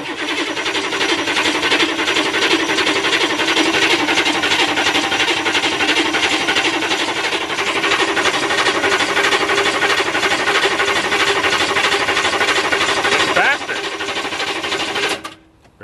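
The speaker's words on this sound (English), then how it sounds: "let's crank her up and see how she sounds now with two good batteries" A diesel engine running on two new batteries roars loud and steady with a dense, rattling knock throughout, then drops in level and cuts off sharply at the very end.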